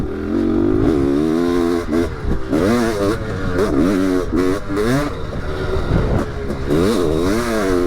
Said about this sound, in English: Time I've ridden our fuel injected 500cc two-stroke since we swapped out the old TPI system for this high-tech brand new TBI system